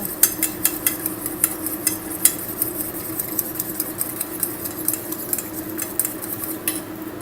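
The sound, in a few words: eggs being beaten in a bowl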